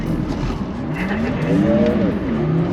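An electric Porsche drifts with a loud, continuous tire squeal whose pitch wavers and sweeps as the car slides, close and steady throughout.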